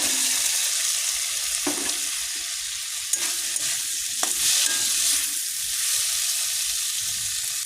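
Potatoes frying in a pan for aloo dum, a dense, steady sizzle of oil close by, with a few light stirring knocks and clinks scattered through it.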